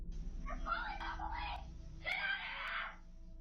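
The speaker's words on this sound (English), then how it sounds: "It seems they only run off after the girl starts screaming" A girl screams from inside a house, picked up by a doorbell camera: two shrill, strained bursts, the second shorter, sounding somewhat muffled and distant with a faint background hum.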